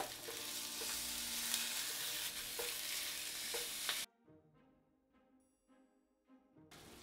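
Ground beef browns in a hot pan with sautéed carrots and onions, giving a steady close sizzle with a few stirring scrapes, then cutting to a quieter stretch of faint sizzling and clinks.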